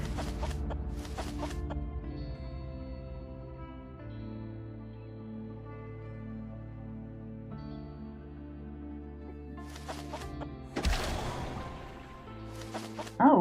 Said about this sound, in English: Apparently that doesn't hit the chickens running around next to them.